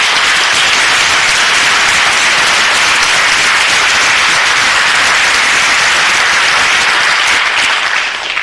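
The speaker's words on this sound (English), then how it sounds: "Let's give them a big round of applause." Loud, sustained audience applause at a city council meeting honoring students, a dense continuous wash of many hands clapping close by, steady for the whole stretch with no talk over it.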